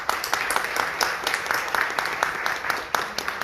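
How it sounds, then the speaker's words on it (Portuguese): Steady applause from a crowd, dense sustained clapping with sharper individual claps popping through, moderately loud throughout. "Uma salva de palmas, por favor."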